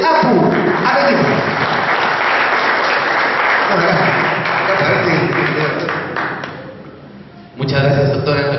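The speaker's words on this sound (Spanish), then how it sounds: "Vamos a recibir un fuerte aplauso a Rafael Mercado Benavente de APU." Audience applause for a speaker at a UFO congress in Huánuco, a loud, steady wash of clapping with crowd voices that dips briefly near the end before resuming.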